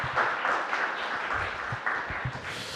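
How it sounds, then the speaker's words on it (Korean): A Catholic Mass congregation applauds in a church, a dense, steady patter of many hands clapping at moderate loudness for a few seconds. "박수 좀 쳐주세요."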